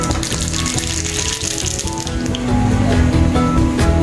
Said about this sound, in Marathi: तेल तापले, मोहरी घालूया.